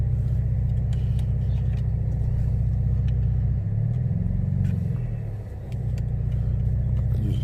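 Car driving through a snowstorm, with a loud, steady engine and road rumble from inside the vehicle that briefly shifts in pitch and dips midway before resuming.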